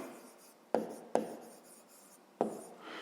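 Pen writing out a school math calculation on paper, three sharp taps starting short scratchy strokes, close and clear with no talking.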